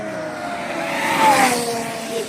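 Two motorbikes arrive at the Dr. Bhupen Hazarika Setu near Sadiya, their engines a continuous rushing hum that swells as they pass close by and then eases off.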